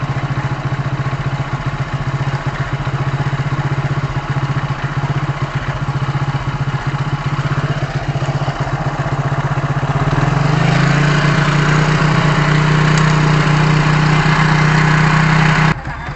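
A Hero HF Deluxe motorcycle engine runs steadily throughout, its note climbing to a higher, louder pitch as it is revved up around the midpoint and held there before dropping off at the end; no one speaks.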